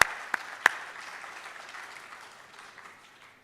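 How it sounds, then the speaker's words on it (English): Audience at a university foundation day ceremony clapping together, a few sharp nearby claps at the start, then a steady wash of applause that gradually fades out. "but we clap for him"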